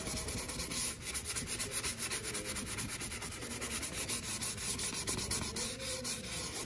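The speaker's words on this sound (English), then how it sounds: "I'm just going to sand this area where the primer is going to go. I'm just doing it by hand." Hand sanding of a custom Harley Davidson fender with 320 grit sandpaper gives a steady, close rasping scrub in quick back-and-forth strokes, continuous and alone throughout.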